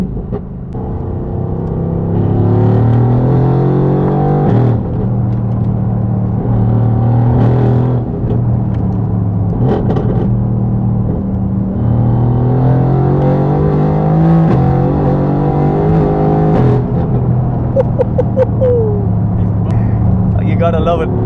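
Heavily modified 900bhp Mercedes-AMG GT R with a meth-injected setup, its engine revving hard with rising and falling harmonic sweeps, loud and close, continuous rumble throughout.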